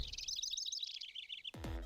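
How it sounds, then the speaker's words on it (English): Birds chirp in a quick, high-pitched run of tweets lasting about a second and a half, then a short burst of another low sound cuts in at the end. "So if you took the sound of birds chirping,"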